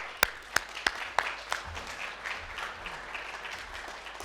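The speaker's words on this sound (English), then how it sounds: "Please, round of applause." Conference audience applause welcoming a speaker, opening with a few sharp, separate claps before settling into a quieter, thinner patter of hands.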